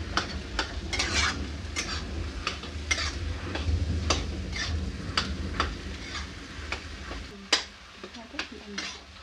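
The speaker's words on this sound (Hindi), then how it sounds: "इसे अच्छी तरह से मिला लेंगे, 1 मिनट तक इसे भी भून लेंगे।" Spiced potato filling frying in a pan while being stirred, with sharp repeated spoon scrapes and clinks over a soft sizzle, close and fairly quiet, no talk.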